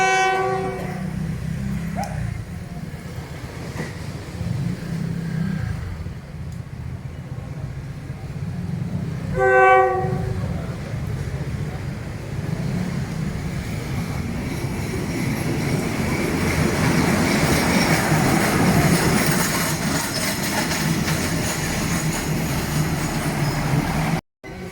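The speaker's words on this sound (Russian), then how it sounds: "Прибытие поезда." A train pulls in with a deep, growing rumble of rolling cars. Loud horn blasts sound near the start and again around the middle, and the wheel and rail noise swells steadily toward the end.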